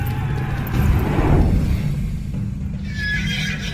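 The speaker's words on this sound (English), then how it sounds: "A war horse was no ordinary horse." A war horse neighs loudly and close by in a single long, rising and falling whinny, with a rough low rumble of movement beneath it and no talk.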